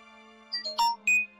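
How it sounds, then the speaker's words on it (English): A phone gives a short run of soft electronic beeps and chimes, three or four quick tones close together, faint and alone over a steady low hum. "if you hear occasional beeps and clicks and all that, that's my phone"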